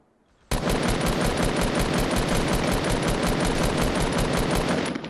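A rapid automatic weapon fires in Fortnite, one continuous loud burst of closely spaced shots that starts abruptly and holds steady for several seconds without pause.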